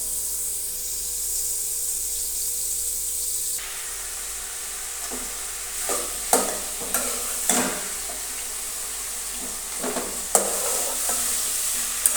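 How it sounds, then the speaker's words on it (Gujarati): Ridge gourd with curry leaves, tomato, chilli and ginger-garlic paste cooking in a pan, a quiet steady hiss that gives way to a louder sizzle with several sharp stirring scrapes. "એને નાખીશું લીમડો, આદુ લસણની પેસ્ટ, ટામેટા મરચાં, ગલકા નાખી દઈશું અને ઢાંકી દઈશું."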